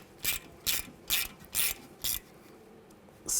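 A hand ratchet clicks in five short, even bursts, close and clear, as a brake rotor screw is snugged down on a 2007-2013 BMW 328i.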